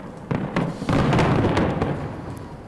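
Fireworks burst over the sea at Atami in a quick series of booming pops that echo and rumble, dense and continuous with no voices.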